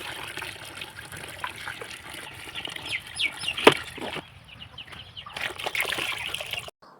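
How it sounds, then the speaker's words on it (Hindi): Water pours into a tub filled with glasses, being readied for planting lotus seeds; a steady splashing, trickling rush runs throughout with a few sharper knocks, then stops abruptly near the end. "इस टब को भर देते हैं पानी से हम, वो भी ऊपर तक। तो मैं भरना शुरू करता हूँ।"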